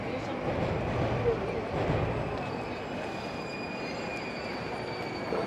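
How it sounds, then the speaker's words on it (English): Train at Okachimachi Station in Tokyo on the Keihin-Tohoku line, a steady rumble of rolling railcars with faint wheel squeal, heard from the street with background voices. "You can get the train here, the Keien Tohoku line."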